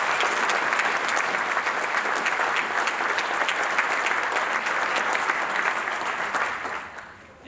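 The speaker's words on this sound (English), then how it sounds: "let's give one more big round of applause for all of our Gary Justice Excellent Award" Sustained applause from the audience at a 100th annual meeting and membership banquet honors award recipients. The dense clapping holds steady for several seconds, then fades near the end.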